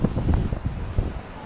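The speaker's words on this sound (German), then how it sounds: "Oh, sorry, jetzt ist gerade echt windig." Gusty wind buffets the microphone in low rumbling bursts, steady and close throughout.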